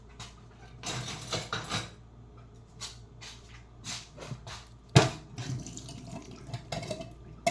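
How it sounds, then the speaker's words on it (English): Tap water runs in bursts in a home kitchen sink while canned peas are drained and rinsed, with splashing surges, a sharp metallic clank, and quieter gaps between pours. "I'm about to drain these peas for real"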